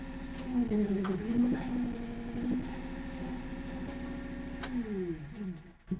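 A mini excavator's engine runs at a fairly close, moderate level, its pitch rising and dipping as the machine works under load, with a few clanks and a sharp knock near the end.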